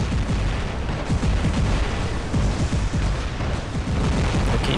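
Rapid weapon fire in the robot combat game War Robots, a dense barrage of repeated booming shots and impacts that runs steadily and loudly throughout without pause.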